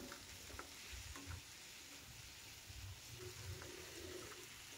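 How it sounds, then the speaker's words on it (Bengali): Lentils and ridge gourd fry in a pan with salt and turmeric for a vegetarian dal, a soft steady sizzle with occasional stirring scrapes, quiet and without voices. "আবারও ডাল আর ঝিঙে খুব ভালো করে ভেজে নেব।"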